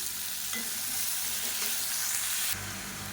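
Chopped tomatoes and onions sautéing in oil in a pan for tomato mint chutney, a close continuous sizzle with stirring scrapes and a louder burst of frying near the end.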